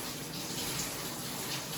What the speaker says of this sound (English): you need them to get into the shower. So I'm gonna let it run just a little bit until the water warms up